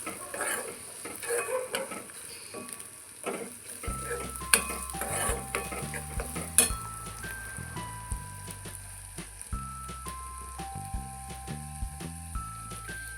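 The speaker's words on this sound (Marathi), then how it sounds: "हे सगळं असं मिक्स करून घेऊया हलवून घेऊया" Young jackfruit sabji with spices is stirred in a pan, faint sizzling and scattered spoon taps against metal, with background music carrying on beneath.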